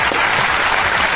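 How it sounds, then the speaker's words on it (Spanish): Podcast audience applauding for a guest named Raulito, a dense, steady burst of clapping that stays loud and even throughout, with no talk over it. "Por favor, démosle un aplauso a Raulito."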